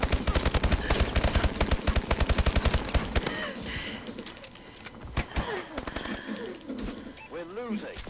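Rapid automatic gunfire from a Call of Duty: Advanced Warfare gun game match, a steady burst of close shots for about three seconds, then scattered single shots and game effects with a voice speaking over them.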